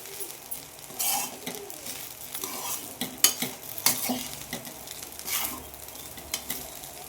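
Jeera rice being stirred in a pan on a gas stove, with a steady soft sizzle and scraping spoon strokes and a few sharp metallic clinks, close up and with no talk.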